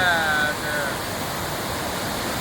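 Broad, steady rushing of the Tamirabarani river flowing out into the sea, a loud continuous roar like a waterfall, heard close with no pauses.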